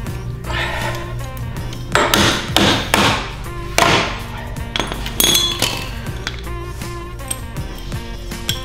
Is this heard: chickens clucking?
no